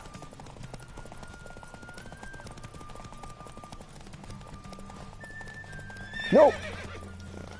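A horse in the video game Witcher 3 gallops with steady clip-clop hoofbeats over background game music, then lets out a loud neigh near the end as someone shouts briefly.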